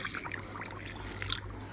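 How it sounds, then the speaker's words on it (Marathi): Hot water trickling and pouring into a vessel of urad and moong dal to soak them, a soft steady liquid splash with faint droplet plinks, close and fairly quiet. "थोडंसं मी गरम पाणी घालून ह्याला ना भिजवून घेते."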